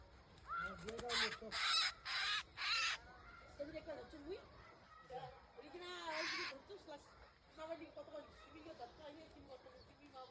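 Crows caw loudly in repeated harsh bursts as birds gather to eat where food is scarce, several calls clustered early and another near the middle, with quieter chatter and a voice speaking between them.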